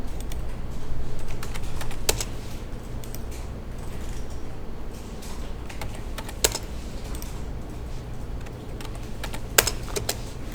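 Keys clatter on a computer keyboard while numbers are entered in SketchUp, in quick bursts of clicks with a few sharper, louder key strikes over a steady low hum.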